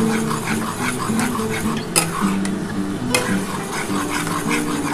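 Spice masala being sautéed in oil in a pan for egg curry: continuous sizzling with steady stirring scrapes and two sharp clinks of the spoon against the pan.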